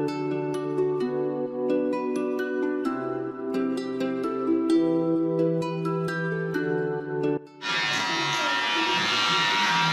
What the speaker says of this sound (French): Brahim, il y a le rasoir électrique